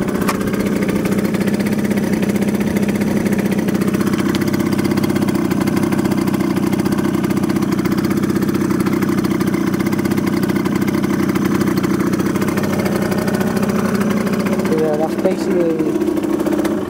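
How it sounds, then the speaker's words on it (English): A 2014 Yamaha Aerox R scooter engine idles steadily with a constant mid-pitched hum, loud and close, and a faint rev near the end while a person talks over it. "That's basically the bike started."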